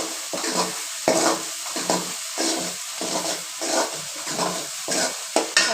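Pirandai (adamant creeper) pickle mixture being stirred and fried in a pan, a steady sizzle broken by repeated scraping strokes of a spoon against the pan, close and fairly loud, with no talking.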